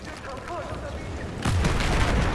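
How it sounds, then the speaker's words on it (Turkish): A bomb goes off in Battlefield 4 on the Golmud Railway map, a sudden loud boom about halfway through that swells into a broad rumble over faint background battle noise. "Biri bomba attı lan"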